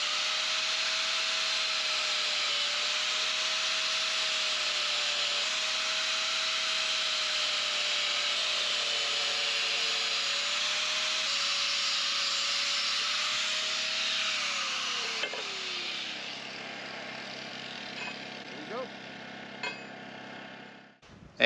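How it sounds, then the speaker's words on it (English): An angle grinder cuts steel pieces for a solar panel mounting grid, giving a loud, steady high-pitched whine with a wavering tone for about fifteen seconds before winding down into quieter shop noise and a few small knocks. "So I'm gonna switch to the angle grinder and see if that can speed the process up"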